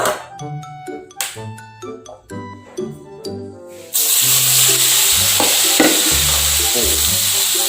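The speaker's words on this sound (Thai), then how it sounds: "ก็เลยต้องผัดให้สุกก่อนนะครับ" Minced pork for spicy larb stir-frying in an oiled pan: a loud, continuous sizzle with repeated scraping and clinking of the utensil against the pan, following a few seconds of quieter tapping and knocking.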